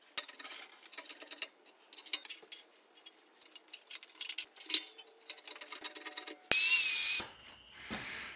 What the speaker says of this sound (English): finally got that nut off of there